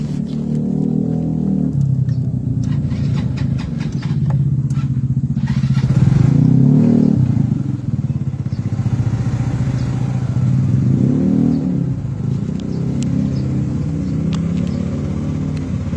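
A motorcycle engine idles and rumbles steadily up close, with slight revving swells and mechanical clatter throughout.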